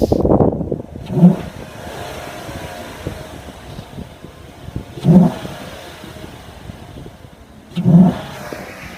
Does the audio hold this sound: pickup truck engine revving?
yes